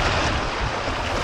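Sea waves and wind rush around a small fishing boat off Talim Island, a loud, dense, steady wash of surf and breeze close to the microphone.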